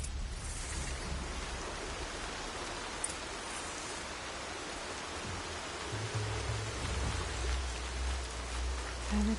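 Steady rainfall in a video game hisses evenly as a soft, constant wash of patter, with a low rumble building faintly underneath toward the end.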